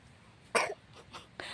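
A person coughs sharply once, followed by a couple of softer, shorter coughs, close and isolated against a quiet background.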